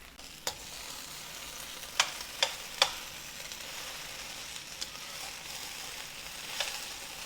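Okra fries in oil in a very full pan, giving a steady close sizzle broken by a few sharp pops and utensil clicks, with no talking.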